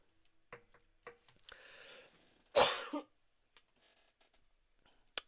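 A person gives one sharp, loud cough up close, with a breathy, throat-clearing quality, set among faint clicks and quiet breathing in an otherwise hushed room.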